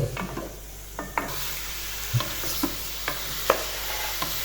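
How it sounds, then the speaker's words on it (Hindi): Desi chicken pieces frying in gradually heating oil in a karahi, a low sizzle broken by sharp stirring knocks and scrapes of a spatula every half second or so, close by, without talk. "साथ साथ ऑयल गर्म होता जाएगा और साथ साथ हम इसको फ्राई करते जाएंगे"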